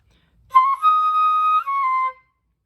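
A few clear, pure flute notes, one short then two long held tones, stepping down slightly at the end, played alone with no talking.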